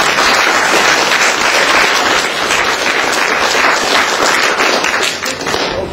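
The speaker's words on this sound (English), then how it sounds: "So I think you should give her an applause for that idea." Audience applause at a panel discussion on peace and development, a dense, steady wash of many hands clapping that stays loud throughout and eases slightly near the end, with no voices over it.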